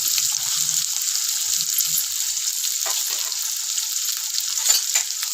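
Onions, green chillies and curry leaves sizzle in a pan with a steady, bright crackle, joined by occasional soft stirring scrapes.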